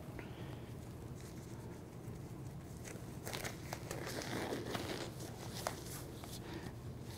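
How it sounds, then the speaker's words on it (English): Medical gloves pulled on before practicing an IV insertion, a quiet run of soft crinkling, snapping and rustling of the material, faint and close, busier in the second half, with no speech. "Now I'm going to don my gloves."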